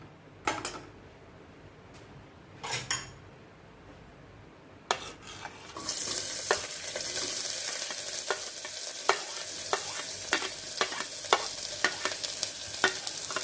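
Onion, garlic and ginger go into hot ghee for mung and masoor dal. After a few clinks, a loud steady sizzle starts and carries on under repeated scraping stirs of a spoon in the pan.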